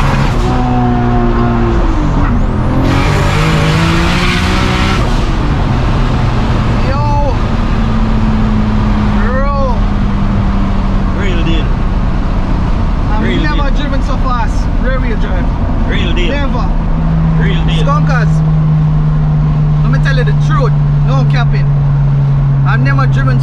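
A 900+ wheel-horsepower rear-wheel-drive Toyota Supra is driven hard, its engine roaring and climbing through gears with sharp shifts and long sustained pulls, loud and close, while people shout and talk over it.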